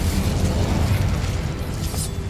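An Incendio fire spell cast in Hogwarts Legacy, a steady roaring, crackling burst of flame with low rumbling weight, loud and continuous for a couple of seconds without speech.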